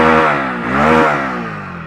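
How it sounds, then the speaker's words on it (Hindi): A Hero Splendor Plus motorcycle idles close by, then its engine and exhaust rev up and fall back in a single throttle blip, a steady harmonic thrum with no talk. "आइडियल कंडीशन पर इंजन साउंड सुनो, एग्जॉस्ट नोट सुनो। थ्रॉटल लेता हूँ"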